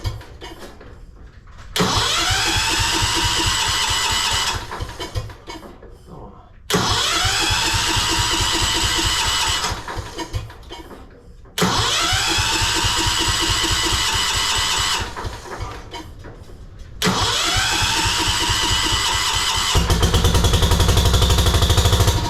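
A Wheel Horse garden tractor engine runs loud and close after a choke adjustment, roaring in four bursts separated by brief drops, then settling into a steady run.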